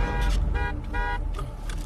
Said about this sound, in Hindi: बजाओ हॉर्न।